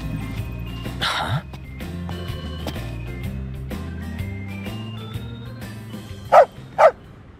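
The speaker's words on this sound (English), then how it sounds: "A dog can really track a scent. Certainly knows how to find us." A dog barks twice in quick succession near the end in Final Fantasy XV: Pocket Edition, over steady game background music.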